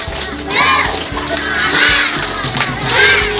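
Schoolchildren at an elementary school loudly chant and shout together in a "tepuk semangat" clapping chant, three rising bursts of massed young voices in quick succession, close and energetic.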